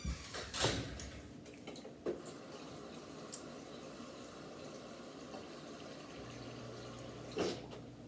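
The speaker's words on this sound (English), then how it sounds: "You're gonna have to fill the cup with water first." Water runs quietly into a cup in a soft, steady trickle, with a couple of brief clunks and knocks around it.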